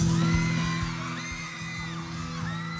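Fans at the Mango Bamboo Festival in San Carlos City, Pangasinan, cheer and whoop loudly as a crowd, rising and falling shrieks layered over a dense crowd roar with music droning beneath.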